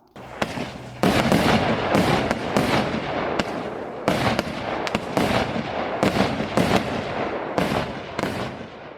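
Brocade fireworks, silver and bright like chrysanthemum shells, go off in a rapid series of about a dozen loud, sharp bursts, each followed by a brief crackling tail.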